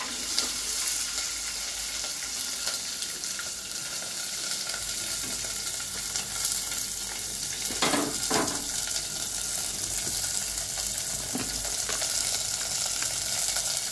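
Green chillies and onions fry in hot oil in a pan with cumin, a loud steady sizzle filling the whole stretch, with a few stirring scrapes partway through and no talking.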